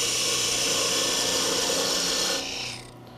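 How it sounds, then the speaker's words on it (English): A parting tool bites into a wooden Christmas ornament spinning on a lathe, giving a loud, even, hissing rasp that holds steady, then drops away sharply near the end as the cut stops. "I'll use a parting tool, parting on my end line, the very length of the ornament"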